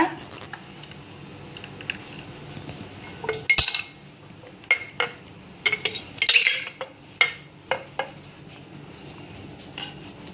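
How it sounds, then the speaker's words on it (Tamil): Ice cubes clink and knock against glass in scattered bright taps, some clustered together, over quiet background noise. "இதில் ஐஸ் கட்டியை போட்டுக்கோங்க."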